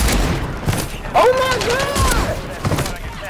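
Reclaimer 18 shotgun fire in Call of Duty Warzone on Rebirth Island, heavy gunfire and bursts over loud game noise, with an excited voice shouting over it.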